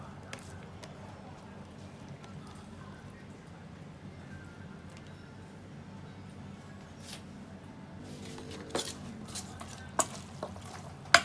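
Instant noodle salad being tossed with blanched vegetables, onion and tomato in a bowl, with soft, steady stirring and mixing sounds at close range, a few sharper clinks of utensils near the end.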